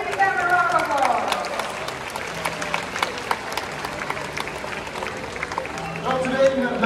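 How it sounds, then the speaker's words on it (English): Audience applause at the Predators on Wings bird show at Bird Paradise in Singapore, a steady wash of clapping with scattered sharp claps beneath continuous talking over the crowd. "let's show them our support by giving them a round of applause"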